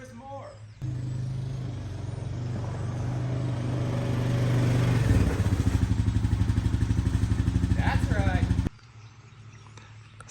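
A four-wheeler ATV engine idles close by with a low, steady rumble, then revs into a rapid, pulsing chug before cutting off abruptly; someone speaks briefly over it.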